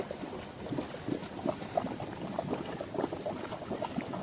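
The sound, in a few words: bubbling hot sulfur spring water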